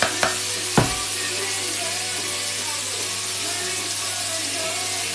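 Chicken livers fry in a hot pan with a loud, steady sizzle and crackle, broken near the start by a couple of sharp scrapes and knocks of stirring.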